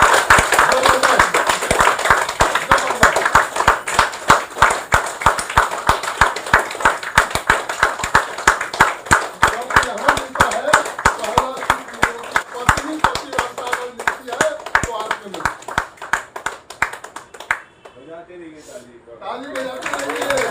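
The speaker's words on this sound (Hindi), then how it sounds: "दोनों हाथ खड़ा करके एक बार जबरदस्त क्लैपिंग करेंगे अपने आप के लिए" A crowd claps hands in a long, loud burst of dense, rapid applause lasting many seconds, with voices calling over it, before the clapping thins and stops near the end.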